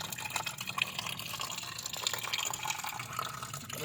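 Coolant water pours and splashes steadily out of a minivan's cooling system during a flush, a continuous broad rushing with small drips and gurgles over it, fairly close.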